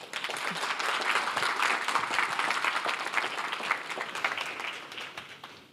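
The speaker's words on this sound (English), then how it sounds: "I wanted you all to give a massive round of applause for them for opening up today's festival" A festival audience gives a round of applause for the speakers opening the day's event, dense sustained clapping from a large crowd that swells quickly and tapers slightly toward the end.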